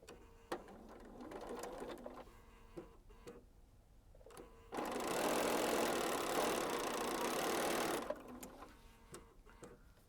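A sewing machine stitches along the outside edge of quilt fabric in a loud, continuous burst of about three seconds, framed by quieter clicks and handling noises before and after.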